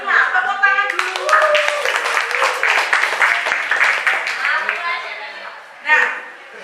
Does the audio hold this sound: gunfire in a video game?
no